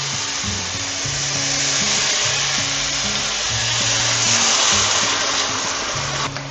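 A pan is scraped for brown bits while red wine reduces for a beef stew, a steady bright sizzle under a low rhythmic droning pattern, continuous and fairly loud.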